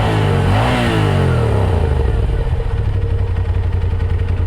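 A 2023 Suzuki GSX-R1000R sport bike engine, close and loud, drops from a rev into a steady, rumbling idle that holds for the rest of the stretch.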